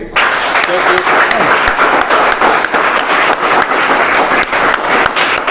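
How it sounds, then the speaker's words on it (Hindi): A church congregation claps together in thanks during a Sunday service, a dense steady wash of many hands that starts abruptly and holds at full loudness throughout, with faint voices mixed in. "आइए हम धन्यवाद के लिए ताली बजाएंगे"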